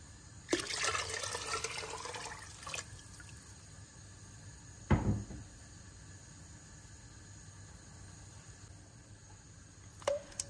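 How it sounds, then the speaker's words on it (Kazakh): Cold water, about three litres, is poured into a cooking pot in a steady splashing rush lasting roughly two seconds, followed by a dull knock and near quiet. "Енді үстіне салқын суымызды құямыз."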